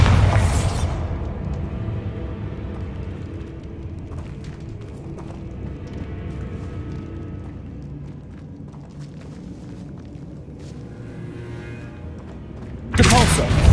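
A Bombarda spell blast in Hogwarts Legacy on PS5, with deep booming rumble through most of the clip and a sharp loud burst at the very end, amid other combat effects.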